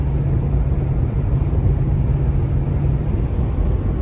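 A 1977 or 1978 car cruising on the interstate at about 65 mph as more gas is given, a steady broadband road and engine rumble heard from inside the cabin, continuous and even.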